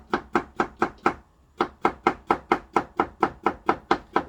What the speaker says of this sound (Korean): 이걸 얇게 써는 게 중요해요.